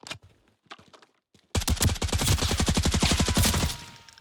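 An M61 rifle in Arena Breakout Infinite fires a sustained full-auto burst of rapid, evenly spaced loud shots, preceded by a few softer clicks and isolated short sounds before the long burst.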